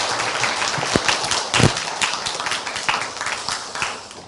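An audience applauds to welcome a speaker at a Thursday chapel service at Hanyang University. The clapping is moderate and scattered, with a few sharper claps standing out.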